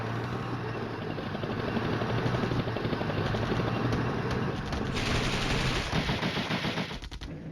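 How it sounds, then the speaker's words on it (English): Helicopters in the video game Flashpoint Campaigns: Red Storm: a steady, loud rotor-and-engine roar with dense gunfire crackling over it, building into rapid bursts near the end. "Oh, there come the helicopters."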